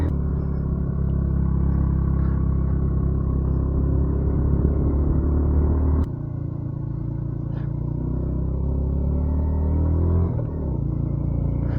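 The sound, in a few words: motorcycle engine rumbling during a group ride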